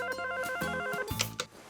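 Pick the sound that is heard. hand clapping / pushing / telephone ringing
telephone ringing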